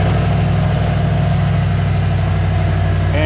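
A Chevy Express 2500/3500 van engine runs at a steady, loud idle, a continuous low rumble close to the microphone with no break.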